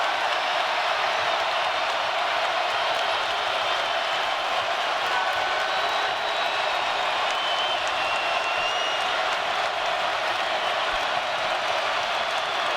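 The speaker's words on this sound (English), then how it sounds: "Listen to this crowd." Basketball arena crowd at a college game between Tennessee and Alabama cheers and applauds in a sustained, loud, dense roar that holds steady throughout.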